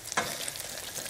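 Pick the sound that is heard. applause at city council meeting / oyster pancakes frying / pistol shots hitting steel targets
oyster pancakes frying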